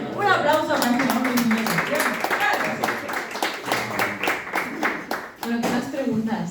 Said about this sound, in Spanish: Un aplauso para este hombre